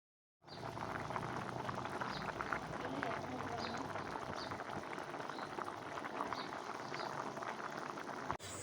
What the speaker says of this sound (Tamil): தண்ணி ஆட் பண்ணி அதை நல்லா கொதிக்க விட்டுருங்க.